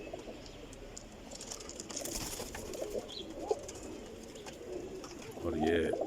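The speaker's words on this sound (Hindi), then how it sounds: "और ये अली वाले कबूतर के साथ है ये जी मोतियों वाला चूहा कबूतर।" Breeder high-flyer pigeons coo softly and steadily at close range, with a louder burst of cooing near the end, while someone talks over the birds.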